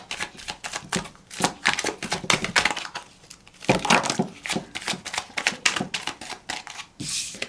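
A deck of tarot cards is shuffled and pulled by hand, giving rapid papery riffles and flicks in bursts with brief pauses, close and fairly loud, with no speech.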